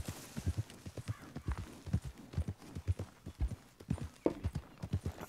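Steady clip-clop of a tiring horse's hooves trotting at an even rhythm in the video game Red Dead Redemption, fairly close and clear, with faint background noise and no talking.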